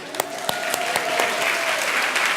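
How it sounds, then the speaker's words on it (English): A room of seminar attendees applaud their groups, with a brief burst of clapping and a few sharp louder claps standing out near the front. "give your group a round of applause"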